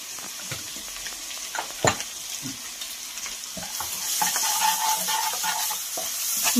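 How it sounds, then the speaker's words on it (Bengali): Spice masala for shahi chicken korma frying in oil and butter, a soft sizzle with a few stirring scrapes that grows louder and brighter toward the end. "ভালো করে এটা আমি তেলের মধ্যে আর বাটারের মধ্যে ভেজে নিচ্ছি মশলাটা"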